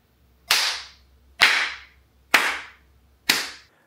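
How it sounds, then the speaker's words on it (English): Four sharp hand claps, evenly spaced about a second apart, each ringing out and decaying fast in a room treated with acoustic absorption panels; no voices. "let's redo the clap test with all the absorption panels installed"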